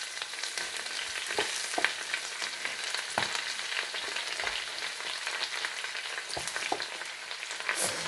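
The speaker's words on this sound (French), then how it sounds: "je fais revenir les oignons. Maintenant, je vais mettre mes épinards dedans" Onions and spinach fry in a pan, a steady bright sizzle with soft scraping stirs and occasional clicks, close and continuous with no talking.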